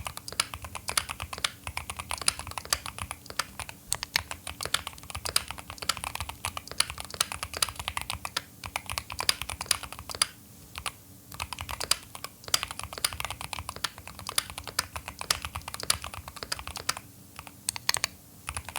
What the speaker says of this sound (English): We will also do some general typing